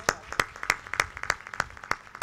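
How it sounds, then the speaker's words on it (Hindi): Rhythmic clapping from an audience at a devotional Nani Bai Ka Mayra katha gathering, about eight sharp, evenly spaced claps in a steady beat, fairly close and clear. "ताली बजाओ इस बात का।"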